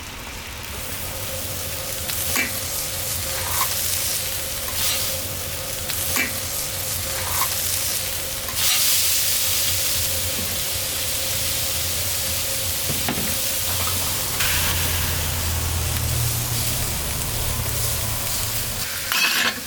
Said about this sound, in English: we're going to cook it longer on this side to get the caramelization